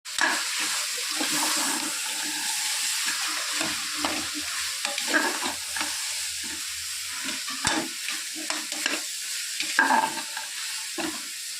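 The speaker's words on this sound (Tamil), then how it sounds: "இப்போ மீல் மேக்கரை போட்டுட்டதும் நல்லா குழவி விடணும், வதக்கி" Soya chunks (meal maker) sautéing and being stirred in a pan for a vegetable biryani, with a steady sizzle and irregular scraping and stirring clatter throughout, fairly close and with no voices.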